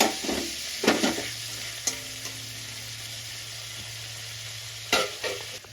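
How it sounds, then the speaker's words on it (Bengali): Fish sizzles quietly in oil in a pan while a utensil scrapes and clatters against the pan a few times, with a low hum underneath. "মাছটা আমি এবার ভালো করে নেড়ে ভেজে নিই। এদিকে আমার মাছটা ভাজা হোক।"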